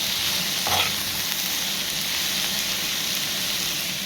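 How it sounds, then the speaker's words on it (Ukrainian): Cabbage stewing in a home kitchen pan, a steady close sizzle and bubbling hiss running unbroken throughout, with a faint brief clink partway through. "Тушу капустку"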